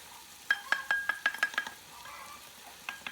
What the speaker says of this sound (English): To sprinkle the flour throughout the veggies, and then we'll stir and cook it all for about 5 to 7 minutes